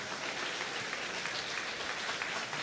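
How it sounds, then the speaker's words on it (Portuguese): A church congregation applauds in a steady, dense wash of clapping that holds evenly throughout the short stretch, with no break. "Você pode dar um aplauso ao Senhor?"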